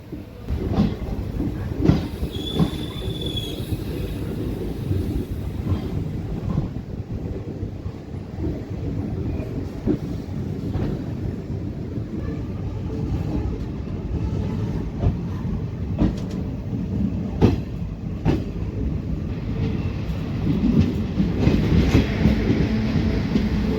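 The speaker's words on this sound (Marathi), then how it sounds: "आपली पंढरपूर निजामाबाद एक्सप्रेस निघालेली आहे लातूर रेल्वे स्टेशनवरून" The Pandharpur–Nizamabad Express rumbles steadily along the tracks after leaving Latur station, with rhythmic clacking and rattling, loud and close throughout, building slightly toward the end.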